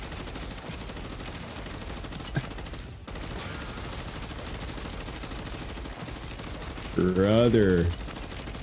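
Continuous crackling gunfire from an overpowered gun in MW3 Zombies, a steady dense rattle of shots under game noise, with a voice briefly breaking in near the end.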